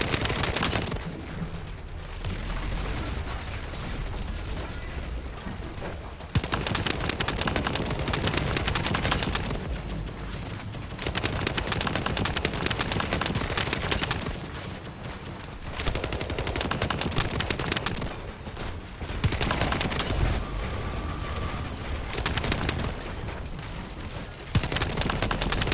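Sustained automatic turret fire at kingfishers in a video game, long loud bursts broken by short pauses over nearly half a minute, close and harsh, with no talking.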